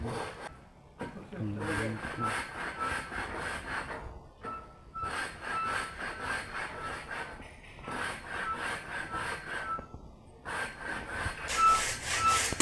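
A saw cutting through the upper trunk of a neem tree outdoors, with long rasping strokes repeating in steady bursts and short pauses between them, while people talk nearby.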